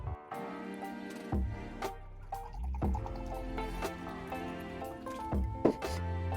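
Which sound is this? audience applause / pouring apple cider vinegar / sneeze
pouring apple cider vinegar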